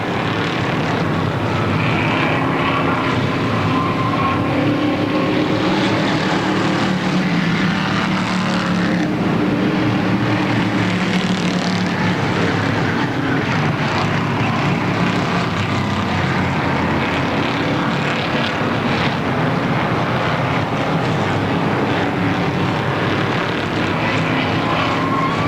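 Race cars at a short oval speedway, a continuous roar of several engines rising and falling as they lap the track, heard from a distance with crowd-level ambience and no clear talk.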